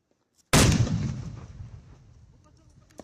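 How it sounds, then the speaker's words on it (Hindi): A single loud blast of mortar shells detonated together near the Chenab River erupts suddenly, then a deep rumbling decay rolls on for a couple of seconds, with a faint pop near the end. "हम दोनों को एक साथ रख के और फिर विस्फोट करेंगे उसको"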